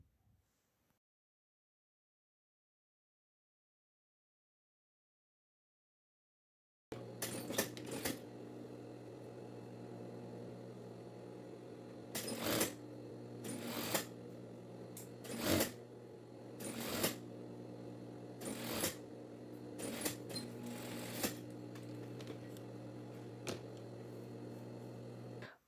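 A sewing machine runs steadily while stitching the sleeve cuff of a women's lab coat, a continuous close mechanical whir with brief louder surges throughout, following a silent opening of several seconds.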